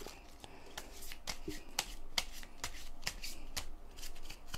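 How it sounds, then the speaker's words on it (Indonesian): Playing cards being shuffled up close, a rapid series of sharp riffling snaps and flicks in quick rhythm, fairly quiet and with no talk over it. "Kita kocok dulu kartunya dong."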